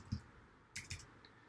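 Someone types on a computer keyboard while coding, producing a few faint, scattered key clicks in a quiet room with no voices.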